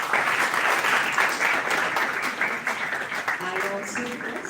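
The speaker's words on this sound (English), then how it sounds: "Big round of applause, please." Audience applause at a university award ceremony in Pune, loud dense clapping that gradually thins out, with a voice speaking faintly over the final moments.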